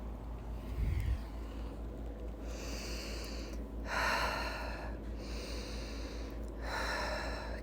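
Deep, audible breaths during a yoga ab workout, with long rhythmic exhales and inhales repeating slowly and close, over a low steady background hum.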